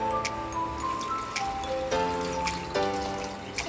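Water pours into a cooking pot with tomato paste and beans while dinner cooks, a splashing trickle that shifts pitch as the pot fills, with a few clinks and ticks over roughly four seconds.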